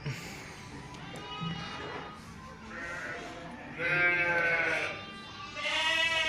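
Sakız sheep bleat on a farm, several overlapping calls rising and falling nearby, with a low hum of background noise.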